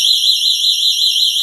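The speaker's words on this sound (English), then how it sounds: "I'm going to go ahead and switch it to alarm" A GE personal security window and door alarm shrieks continuously, a piercing high warbling siren that stays loud and steady throughout the brief burst.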